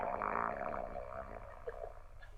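A snore is played back from a recording, a faint, low, rattling drone that fades after about a second, followed by quiet room noise.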